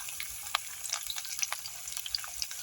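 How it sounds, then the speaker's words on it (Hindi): Finely chopped onion fries in a pan, a quiet, close crackle of scattered small pops and spits running steadily. "और इस प्याज को हम तब तक फ्राई करेंगे जब तक इसका कलर न चेंज हो जाए।"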